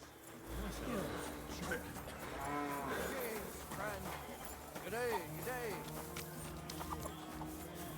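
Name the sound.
cow mooing in the video game Kingdom Come: Deliverance II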